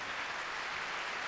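Brief, faint applause from an audience at a European political conference, a soft, distant patter of clapping heard alone for just over a second.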